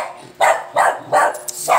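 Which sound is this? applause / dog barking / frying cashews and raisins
dog barking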